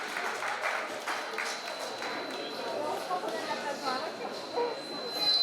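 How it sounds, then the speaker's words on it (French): An audience applauds a climber at a bouldering youth championship awards ceremony in a large hall, sustained diffuse clapping spread across the room, with an announcer's voice over it. "On l'applaudit bien fort, Louis Féchaud"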